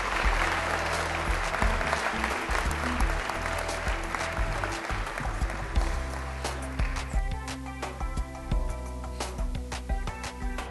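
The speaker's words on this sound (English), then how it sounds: "Please give him a big round of applause." A luncheon crowd at a law enforcement appreciation event gives a round of applause, dense clapping that thins into scattered individual claps, while a steady low hum or music runs underneath.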